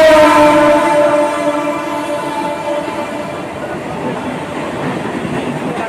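A train pulls into a station, loud and close, with a steady rumble and rolling clatter under a fading high tonal squeal or whine at the start.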